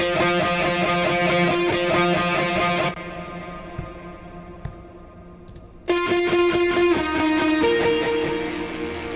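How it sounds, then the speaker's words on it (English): Rhythm guitars in a mixed rock track, distorted and sustained, playing steady chords; the full band drops out for a few seconds to a quieter, sparser passage before the loud guitars return. "What's going on with the rhythm guitars?"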